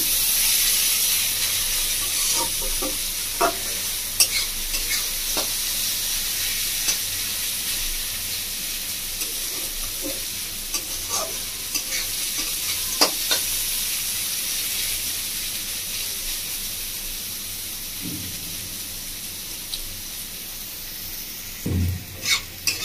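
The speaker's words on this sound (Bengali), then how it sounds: "হালকা হালকা ভাজা হয়েছে। আমি আরও 2 মিনিট মতো ভেজে নেব।" Mixed vegetables sizzle steadily in a hot pan for tomato soup, with a spoon stirring and scraping at intervals, clinks and bumps punctuating the continuous hiss, close and fairly loud.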